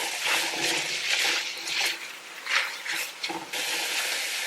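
Diced celery and carrot are stirred in a pot, giving a run of scraping, shuffling swishes with brief pauses and a faint hiss of cooking underneath.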